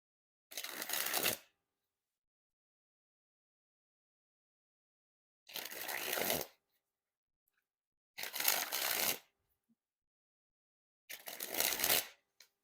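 Four separate bursts of playing cards sprung between the hands, a fairly thick Carvers v1 Watermelon deck, each a brief crisp rapid fluttering riffle, close and clear, with silent gaps between them.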